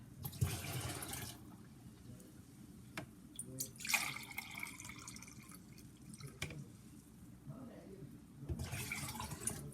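Water poured from cups over soy beans for homemade soy milk, splashing and dripping unevenly with a few sharp clinks, fairly close and moderately quiet.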